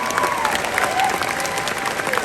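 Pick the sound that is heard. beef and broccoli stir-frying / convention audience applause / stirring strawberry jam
convention audience applause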